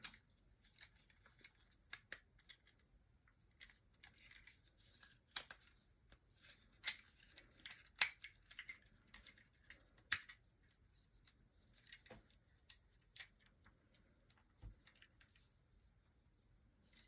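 A Transformers Siege Soundwave toy is twisted into tape deck mode, giving faint, scattered plastic clicks and snaps at irregular intervals against a quiet background.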